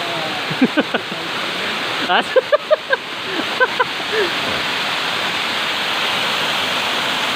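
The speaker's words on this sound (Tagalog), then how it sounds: "Feel the nature of Mabonao Falls." Mabonao Falls, a waterfall on a hiking trail, fills the scene with steady broadband rushing water, broken early by a few short voices and bright chirp-like calls before the roar continues alone.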